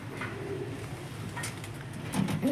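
Pigeons, including a white one, settled inside a compartmented loft, with low soft cooing and a few close coos over a constant background hum.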